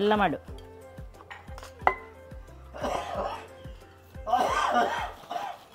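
Metal spoon stirring and scraping a rice laddu mixture in a metal vessel, with repeated clinks and scrapes at close range, and voices talking at times in between.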